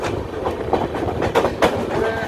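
Express train from Bhubaneswar to Howrah running along the rails, heard from on board as a steady rumble with faint rhythmic wheel clatter and a few sharper knocks.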